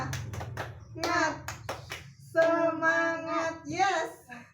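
Schoolchildren in a classroom perform a rhythmic clap chant: a quick run of sharp hand claps opens, then young voices chant together in drawn-out syllables, close and moderately loud.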